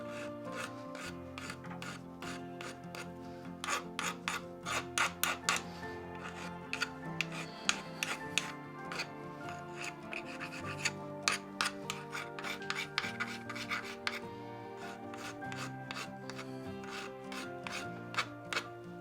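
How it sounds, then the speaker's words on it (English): A hand file rasps sharp burrs off the edges of a Classic Mini flywheel in repeated close strokes with a steady back-and-forth rhythm, and nobody speaks. "So we just run around them with the file and just take those sharp burrs that are on them off."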